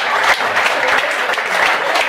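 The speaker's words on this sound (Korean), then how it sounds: "여기에 찬성하신 남자분들만 박수 한번 주시면 대단히 고맙습니다." Men in a comedy show audience clap together in a steady, dense burst of applause that holds at an even level throughout, with no voices rising above it.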